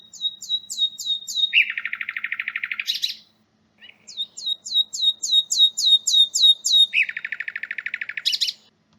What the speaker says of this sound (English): The whistle song is a prominent song type within the rich repertoires of nightingales